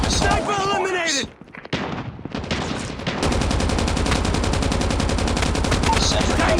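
Machine gun fire in the video game Call of Duty Mobile, a loud rapid continuous stream of shots that dominates the second half, after a burst of voiced game chatter and brief quieter gaps.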